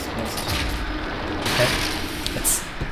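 Gunfire in the video game The Evil Within, a few scattered shots and bursts over a noisy game background, moderately loud, with some faint voice activity mixed in.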